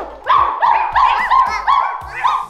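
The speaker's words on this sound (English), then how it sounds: "No, it's not a wolf, it's a dog." A dog barks six times in a quick, loud, evenly spaced series close by, with no talking over it.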